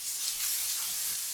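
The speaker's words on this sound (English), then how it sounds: "all we're trying to do right now is we're just trying to sear the veggies." Vegetables searing in a hot pan while being cooked for a langostino Alfredo meal, giving a steady, close, bright hiss that holds even throughout with no talk over it.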